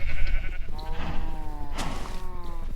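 Sheep bleat in the Minecraft video game, several wavering, drawn-out calls in sequence over a rumbling background, fairly close and clear.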